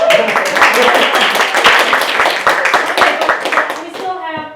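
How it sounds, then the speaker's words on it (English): A small group claps together in a dense, lively burst at a harp forensics talk. The applause is close and loud, then thins out near the end. "Oh, that deserves a round of applause."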